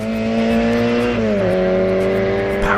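Classic Mini with a 145 bhp A-Series engine revving hard, a loud, close, buzzing engine note that climbs steadily, dips briefly as it shifts, then keeps rising toward high revs.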